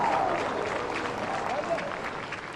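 An audience applauds the Sumi cultural troupe at a Nagaland cultural performance with dense, sustained clapping throughout, and a voice is faintly audible over it.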